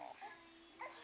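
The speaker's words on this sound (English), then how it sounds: "That's dog. Oh, that's dog." A small dog sound played from a video gives a few quiet yips or whimpers, two soft bursts near the start and another near the end, thin and distant amid a faint background hum.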